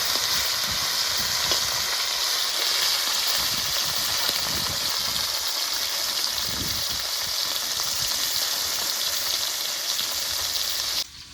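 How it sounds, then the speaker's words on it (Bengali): Small rohu-type fish frying in hot oil in a pan, a continuous close crackling sizzle with uneven spitting bursts, steady and moderately loud for the whole stretch before cutting off abruptly at the end, no voices. "তেল গরম হয়ে গেছে, মাছটা ভেজে নেবো।"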